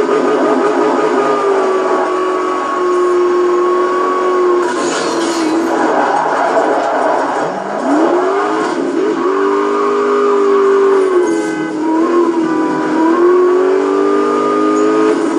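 A Hennessy Venom GT engine in Need for Speed: Most Wanted keeps up a continuous loud drone that rises and falls in pitch as the car revs and shifts gears. Hissing noise runs underneath it.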